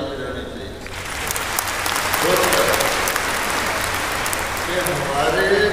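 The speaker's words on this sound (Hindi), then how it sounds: "आपको ताली बजानी" A crowd at a spiritual talk claps together, a thick sustained burst of applause swelling after a brief voice at the start, with speech faintly surfacing underneath.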